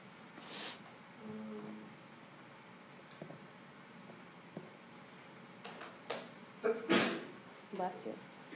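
A sneeze bursts out sharply during a physics class discussion of 2D collisions, one loud brief blast near the start and another near the end, amid quiet classroom chatter and shuffling.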